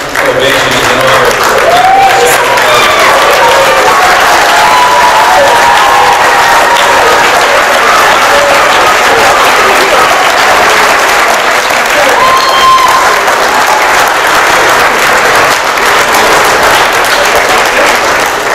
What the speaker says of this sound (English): I think a standing ovation is in order.